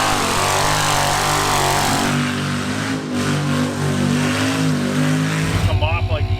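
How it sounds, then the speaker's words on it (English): A big V8 engine in an off-road vehicle on a muddy trail screams loud and near, sustained at high revs before dropping to a choppier idle-like pulse at the end. "I love listening to a V8 scream"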